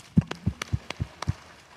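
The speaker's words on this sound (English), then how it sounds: "The third thing we're going to do is clap our thighs." Congregation at a Sunday service slapping their thighs in a slow, even rhythm, about six dull, low thumps close by with no talking.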